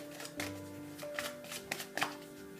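Soft, repeated riffling and tapping of tarot cards being shuffled by hand, several quick bursts over a low background hum.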